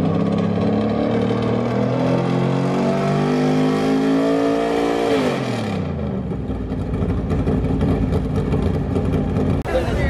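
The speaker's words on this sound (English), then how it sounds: "I just wanted to take a quick look because I hear some of the cars warming up" NASCAR Cup Series race cars warm up on the grid at Miami, a loud close engine rising in a long rev then dropping abruptly, followed by a rough sustained idle of several cars.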